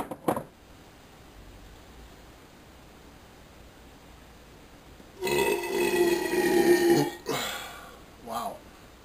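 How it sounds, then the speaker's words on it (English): A man lets out a long, loud burp after drinking from a 40-ounce bottle, then a shorter burp follows; otherwise the stretch is quiet. "But see if I can get you some burps out, man."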